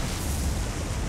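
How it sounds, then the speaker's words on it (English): Explosion at sea in the naval combat game War on the Sea, a dense, sustained rumbling blast that stays loud and steady without a break for about a second. "Another explosion."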